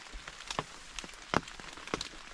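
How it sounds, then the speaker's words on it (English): Rainwater dripping down inside a leaking hunting blind during a rainy deer hunt, heard as scattered close, sharp drops hitting a surface at an irregular pace, alone with no talk. "You see how it's leaking? Well, this water is dripping straight down in your blind."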